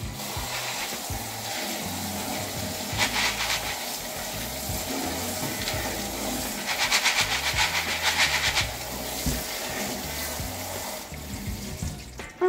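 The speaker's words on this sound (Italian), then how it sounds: "le andiamo a sciacquare un attimo sotto l'acqua corrente" Fava beans are rinsed under running kitchen tap water, a steady hissing stream broken by two louder bursts of splashing as the beans are stirred under the flow.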